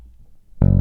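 A bass guitar plays a short line, entering abruptly as a loud, close, sustained low note after a near-silent start.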